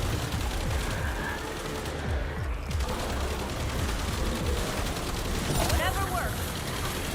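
Gunfire in the co-op shooter John Carpenter's Toxic Commando, with rattling shots and clanking mechanical noise mixed into a dense, busy game soundscape.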